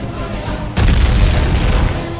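A cannon fires in a castle siege: a heavy boom bursts out suddenly and rolls into a long, loud rumbling roar that keeps on, deep and close.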